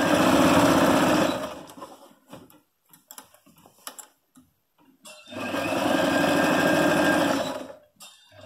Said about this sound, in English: I'm just going to sew straight down.